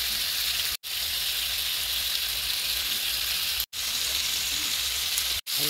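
Beef for kalderetang baka sizzles in a hot pan with a dense, steady, loud frying hiss, cut by a few brief dropouts.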